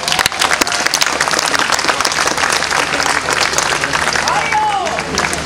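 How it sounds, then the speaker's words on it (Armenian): A crowd at an outdoor political rally claps loudly and without a break, with dense, fast clapping from start to finish and a voice faintly audible beneath it. "եկեք ծափարեք"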